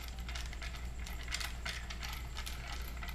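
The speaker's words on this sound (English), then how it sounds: "I'm gonna take my wrench, my driver, and tighten them up." A wrench driver tightens nuts on a DIY tablet holder, making a steady, faint ratcheting click over a low hum, with no speech.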